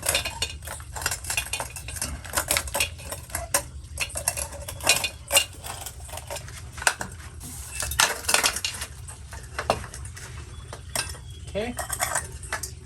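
Metal wood screws are handled in a steady stream of close, bright clinks and rattles, quick irregular metallic jingling throughout, with occasional voices in the background.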